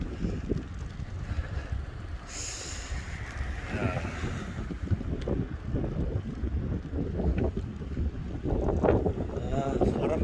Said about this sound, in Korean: 바람 불면 참 좋은 날씨인데 아, 바람이 너무 많이 불어서